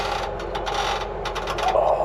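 A spanner loosens a nut on a hydraulic ram on a machine's boom, giving a run of close metallic clicks and ratcheting scrapes over a steady mechanical hum.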